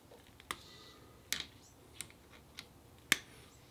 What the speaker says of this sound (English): I'll probably cut these wires here so I can get it through easier.